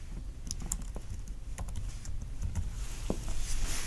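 Close, quiet typing on a computer keyboard during video editing, a brief run of light, irregular key taps over a low steady background hum.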